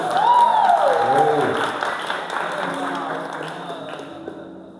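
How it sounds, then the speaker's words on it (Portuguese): A church audience applauds a brother: loud clapping at the start that gradually thins and fades, mixed with murmuring voices and a brief whistle-like tone. "Palmas para o nosso querido irmão"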